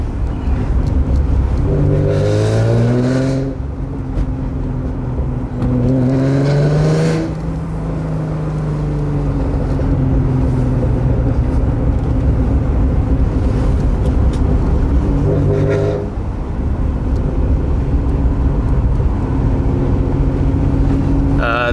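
A supercharged Acura NSX engine drones loudly and steadily with the windows down, swelling through a few rising revs and gear changes, filling the cabin with continuous mechanical roar.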